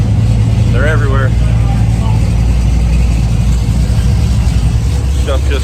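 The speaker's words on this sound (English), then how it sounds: "Stuff just camming away all over." Hot rod engines with lumpy camshafts idle all around a crowded gas station, a loud continuous low rumble under people talking nearby.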